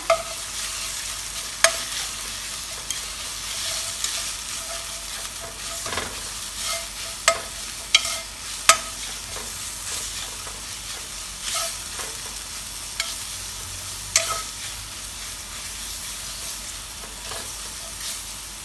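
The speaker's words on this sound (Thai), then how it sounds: "ใส่น้ำมันไปประมาณ 2 ช้อนโต๊ะนะคะ ใส่น้ำพริกลงไปผัดนะคะ" Chili paste stir-fried in about two tablespoons of hot oil for Thai pork bone curry gives a steady close-up sizzle, broken by scattered sharp clicks and scrapes of the spatula against the pan, with no talking.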